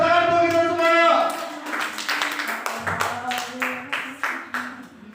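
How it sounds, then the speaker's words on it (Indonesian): A school audience at SMP Negeri 5 Tanjung Morawa claps in a brief round of applause of steady, closely spaced hand claps after a voice and a sustained tone. "tepuk tangan untuk kita semua"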